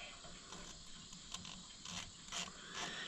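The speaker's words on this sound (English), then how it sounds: "Let's get the biggest ratchet we have." A ratchet wrench clicks steadily on an Oliver 550 tractor during a tune-up, a fast rattling run of pawl clicks with a few louder pulls, heard close up.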